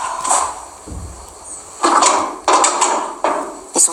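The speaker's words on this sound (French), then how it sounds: "Ils sont fermés à clé, ces tiroirs." Locked drawers are tugged and rattled in a room being searched, several short, loud wooden-metal clunks and jolts arriving in quick irregular bursts, close up with no talking.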